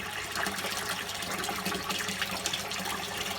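Rinse water from a washing machine's third cycle, running cold and clear, trickles and gushes steadily out of the drain, a continuous close watery wash with no pauses and no speech.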